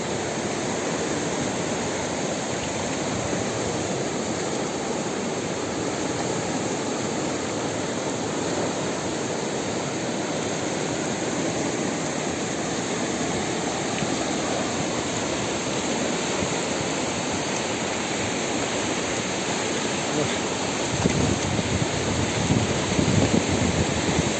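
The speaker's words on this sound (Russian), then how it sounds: "Мынакей суунун агымын карагыла." Loud, steady rush of the Kokomeren River in Jumgal District, Kyrgyzstan, fills the whole clip, a continuous broadband roar close by, swelling slightly toward the end.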